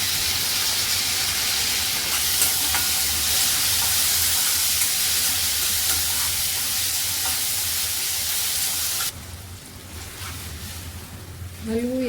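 Tomato dropped into a pan of fried onions gives a loud steady hiss of sizzling for several seconds, then the frying quiets suddenly to a low simmer near the end, and a voice speaks briefly.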